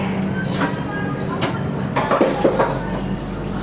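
Interior of the Shalimar–Puri Weekly Superfast Express on the Kolkata to Puri run: a continuous low rumble of the moving coach with scattered clicks and knocks, a voice talking over it.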